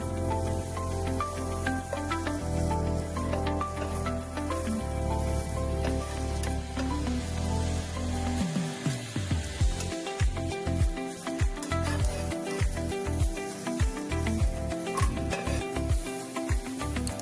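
Green beans turned over in a hot pan, sizzling and crackling steadily, with a clattering, uneven stretch of sharp pops and scrapes in the second half.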